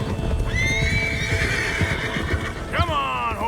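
Herded horses in Red Dead Redemption 2 galloping with clip-clopping hooves and a loud, wavering neigh near the end, heard over a busy outdoor game scene.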